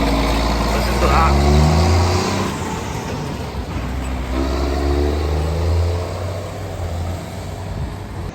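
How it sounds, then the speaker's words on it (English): Case Maxxum 7.8 tractor engine running and revving loudly up close, a deep steady rumble with a surge early on, while someone talks over it. "I don't think there's a better sound than engine."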